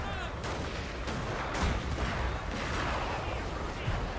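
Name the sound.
line infantry musket gunfire in a video game battle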